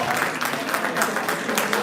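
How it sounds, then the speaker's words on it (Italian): Applause from the audience at a youth regional boxing tournament in Padova, dense continuous clapping that sounds fairly close, with a few voices mixed into the crowd. "un grandissimo applauso perché è solo l'inizio"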